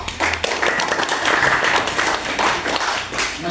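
Classroom applause, a dense burst of many hands clapping together, steady and fairly loud for a few seconds.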